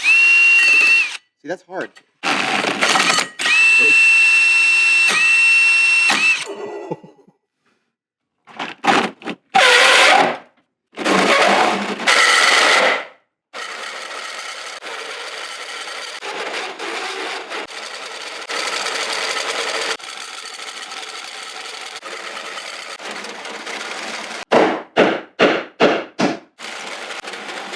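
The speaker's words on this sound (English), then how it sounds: "just drill this hole out as perfectly as I can" A drill bores out a hole in a Toyota Supra part during a rebuild of a ruined car. It runs in repeated loud bursts with pauses between them, and a person speaks briefly between runs.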